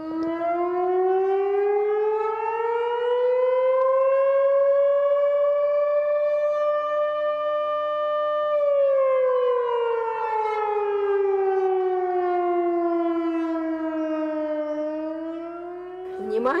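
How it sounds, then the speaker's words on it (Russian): A civil defense siren wails in one long, slow rise and fall, loud and steady, sounding alone. "Сегодня по всему городу завыли сирены."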